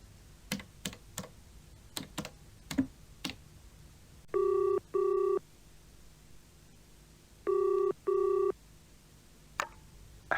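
Beeping telephone keypad tones in two short pairs follow a series of sharp clicks from pressing buttons, set in a quiet room for an English-lesson phone call.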